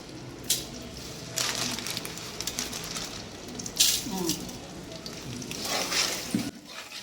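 A spoon scrapes and stirs rock salt through a pot of chicken biryani ingredients in occasional wet, sloshing bursts over a faint sizzling hiss, fairly quiet and close.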